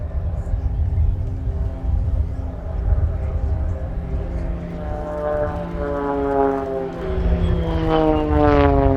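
An Extra 300 aerobatic propeller plane drones steadily overhead during an air display, its engine pitch rising and shifting as it maneuvers, loud and close throughout.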